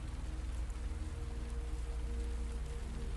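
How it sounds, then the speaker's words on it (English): Steady, dense rain falls on rooftops at night, a constant, even hiss and patter with no pauses and no voices. "The rain falls tonight on Prague, on Vienna, on London, and Paris. It drums against the rooftops"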